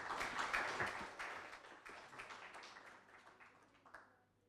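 An audience at an academic panel on journalism and disinformation at the Universidad de Chile claps in a fairly quiet burst of many hands, which thins out and fades to a few last claps.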